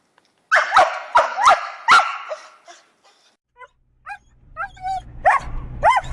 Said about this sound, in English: High-pitched barking, whining, crying.